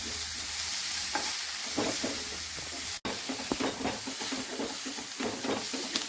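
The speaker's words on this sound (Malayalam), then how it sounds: "ഇളക്കിക്കൊണ്ടിരിക്കുകയാണ്. എളുപ്പം ഇളകാനായിട്ട് നമ്മൾക്ക് ഇതിലൊരു കുറച്ച് ഉപ്പ് ഇട്ട് കൊടുക്കാം" Chopped onions frying in a pan for pulao, stirred steadily with a spoon, giving a continuous close sizzle broken by scraping strokes, with one brief break partway through.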